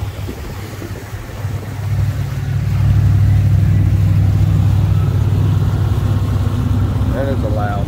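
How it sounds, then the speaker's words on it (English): A big Stingray cuddy cabin motorboat engine drones loudly with a deep throbbing rumble that builds and holds steady as it passes close by on the Intracoastal Waterway near Blind Pass Beach, with brief voices near the end. "That is a loud big boat."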